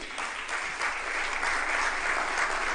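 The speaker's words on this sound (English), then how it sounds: "Please, a round of applause for him." A hall audience at a broadcasting association's general assembly applauds a Hall of Fame inductee, a sustained, even wash of clapping that swells slightly and holds throughout.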